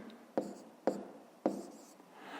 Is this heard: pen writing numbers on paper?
yes